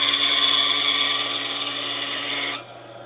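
A band saw cuts through a five-inch piece of wood with a steady, loud whirring rasp that drops off sharply near the end as the cut finishes.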